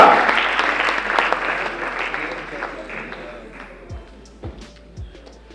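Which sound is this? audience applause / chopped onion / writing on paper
audience applause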